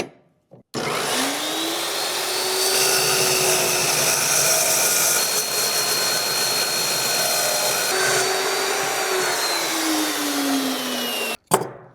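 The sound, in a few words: saw cutting the end off a piece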